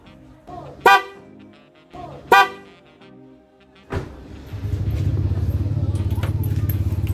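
A Bosch car horn on a Mitsubishi Pajero Gen 2 honks twice in short, hoarse blasts, then an engine starts and settles into a steady, close rumble.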